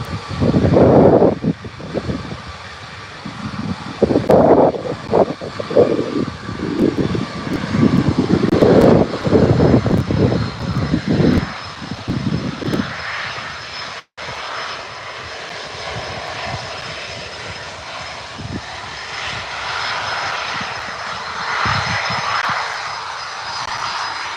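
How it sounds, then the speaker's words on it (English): A Bombardier Challenger jet's engines roar at Birmingham airport, loud and surging for several seconds before settling into a steadier, more distant whine. "Your Bombardier Challenger jet right behind that, heading over to Dubai."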